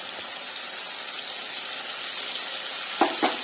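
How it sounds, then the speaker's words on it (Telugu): Chicken for a green chicken curry cooks in a pan with a steady, even sizzle. Two quick soft knocks come near the end, and no voices are heard. "చూడండి ఎలా ఉడుకుతుందో మన చికెన్."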